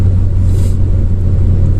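A Renault Mégane engine pushed toward the rev limiter on a night drive makes a loud, close, continuous low rumble that stays steady throughout.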